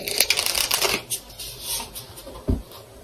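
Tarot cards riffle in quick papery bursts during shuffling, then a few softer slides and taps as single cards are drawn; close and fairly loud, with no talking.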